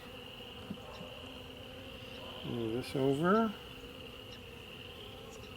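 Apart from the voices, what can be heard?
honeybees buzzing in an opened hive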